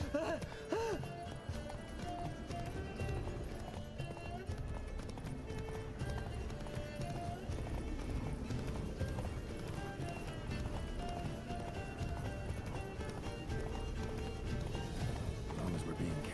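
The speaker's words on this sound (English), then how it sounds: "Run, Roach." Horse hooves clip-clop at a steady galloping rhythm in The Witcher video game, with occasional whinnies, all set under game music and character dialogue.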